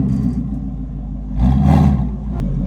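A Ford Shelby GT350 fitted with a Borla Attack exhaust revs once, a loud surge swelling over a steady low rumble before settling back to idle.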